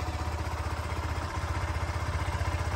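Motorcycle engine during a riding licence exam: a steady, low, pulsing idle-like putter with fast regular firing beats and mechanical clatter, continuous and fairly close, with no talk over it.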